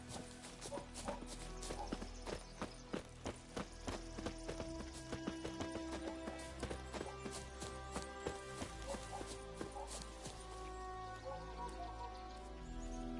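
Steady clip-clop of horse hooves trotting along in The Witcher III: Wild Hunt, rhythmic and fairly close, continuing throughout with no talking.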